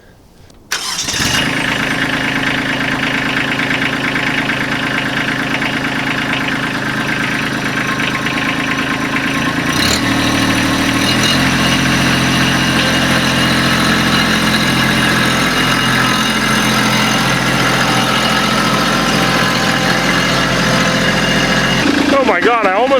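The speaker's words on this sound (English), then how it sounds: "This is a 26 horsepower diesel Kubota" A 26-horsepower Kubota LX2610 diesel compact tractor cranks and catches, then settles into a loud, steady, close idle with a knocking diesel clatter that runs without a break for about twenty seconds.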